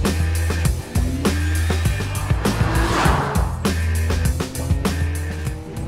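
BMW sports car with a naturally aspirated 265 bhp engine accelerating hard, revs climbing in repeated rising sweeps between gear shifts, loud and close, with a brief tire squeal in the middle.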